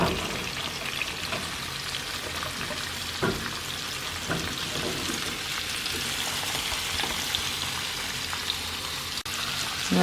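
Garlic and vegetables sauté in a hot pan for an asparagus and spinach frittata, giving a continuous even sizzle with occasional small pops and stirring sounds, close and unbroken, with no talking.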